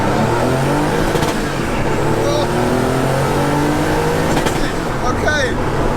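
An old-school Porsche 911 Turbo race car accelerates with loud, close engine revs climbing through the gears, and people talking over the roar.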